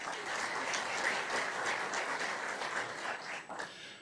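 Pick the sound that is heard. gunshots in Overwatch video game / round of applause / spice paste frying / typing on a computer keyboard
round of applause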